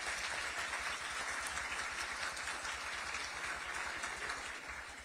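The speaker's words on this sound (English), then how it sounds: "Let's give them a round of applause." A room of guests at the Mayor's Interfaith Prayer Breakfast applauds the volunteer organizing committee, a dense, steady wash of many hands clapping that holds evenly for several seconds and eases off slightly at the end.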